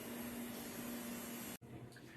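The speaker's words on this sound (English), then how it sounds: "freeze dryer is pretty loud" A freeze dryer in a farm fish-processing kitchen runs loudly. Its steady broadband whir carries a constant hum, then cuts out abruptly and is followed by quieter room noise.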